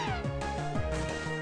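Liepard, the cat Pokémon, lets out its cry in Pokémon Black 2: a synthesized, wavering meow with pulsing tones repeated over a dense, loud game soundtrack for a second and a half.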